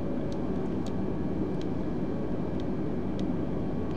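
Airplane engine flying low in Microsoft Flight Simulator 2020, a steady, faint broadband drone with occasional soft clicks, heard alone without talk.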